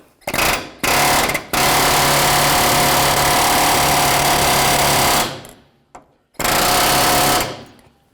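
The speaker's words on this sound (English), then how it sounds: "I'm just going to give it a tap with the air hammer" A loud pneumatic air hammer rattles against the idler arm of a 2000-06 Chevy Tahoe's steering in several bursts: two short hits, one long sustained run, then a brief stab and another burst, close by.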